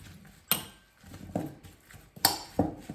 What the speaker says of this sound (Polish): Dodam trochę pieprzu razem wymieszam